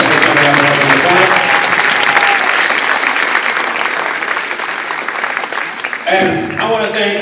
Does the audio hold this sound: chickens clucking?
no